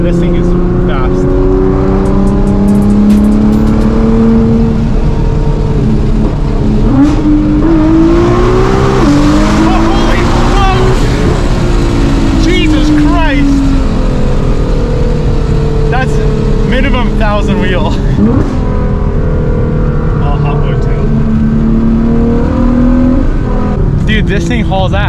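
Nine-second Nissan GT-R with boost leaks accelerating hard, loud engine pitch climbing through gears with shifts and a brief drop, heard from inside the cabin with people talking throughout.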